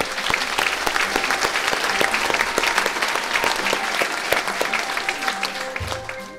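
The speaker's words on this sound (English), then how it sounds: "could we give a round of applause to all of them?" A crowd at a Queensland community awards ceremony applauds loudly and continuously, dense clapping with occasional sharper claps, fading slightly near the end as a low tone enters.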